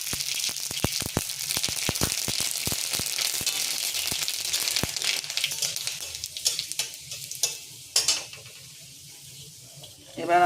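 Mustard seeds and dried red chili crackle and sizzle in hot oil in a pan, dense popping spatters for the first half, then a softer steady fry with a few stirring clinks near the end.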